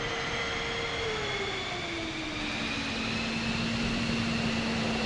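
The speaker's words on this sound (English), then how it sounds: "Now move the right throttle to the idle position to start pumping fuel to the engine." An F-15E Strike Eagle jet engine spools up in the DCS World game, a loud continuous broadband rush with thin whining tones that dip and then hold steady, heard alone without talk.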